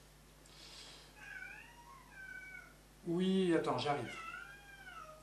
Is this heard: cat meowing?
yes